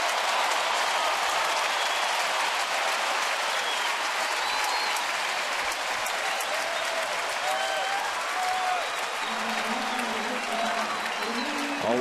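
A large sellout crowd of over 42,000 applauds and cheers at AT&T Park during a Reds–Giants baseball game, a steady, dense wash of clapping and crowd noise filling the stadium throughout, with faint voices and whistles mixed in.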